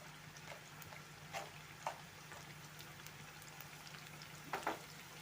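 Steady, quiet sizzling of chopped onion, garlic, ginger and chillies browning in oil, with occasional soft crackles and stirring clicks.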